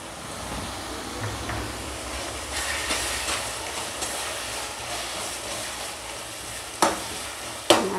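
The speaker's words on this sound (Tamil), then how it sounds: "நல்லா வதக்கி விட்டுக்கலாம்." Chili powder and coriander powder are sautéed in oil in a pan for brinjal thokku, making a soft continuous sizzle with stirring scrapes and two sharp spoon knocks near the end.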